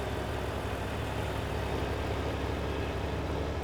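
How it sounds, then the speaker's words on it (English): A tractor engine in the farming game Farming Simulator 19 drones at a steady, dense pitch, with a continuous low rumble and no breaks or speech over it. "Oh, this tractor cannot keep up."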